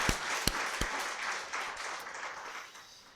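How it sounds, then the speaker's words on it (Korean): Congregation in a Korean church applauding together, a soft, steady wash of many hands clapping at a moderate distance, with a few sharp louder claps near the start before it gradually thins out. "우리 하나님께 영광 돌리는 박수로"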